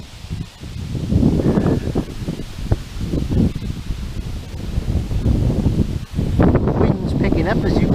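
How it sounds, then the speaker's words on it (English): Strong wind picks up outdoors at a lake fishery during summer fishing, roaring and buffeting loudly against the microphone in continuous gusts with rustling, while a voice speaks briefly underneath. "Wind's picking up, as you can hear now."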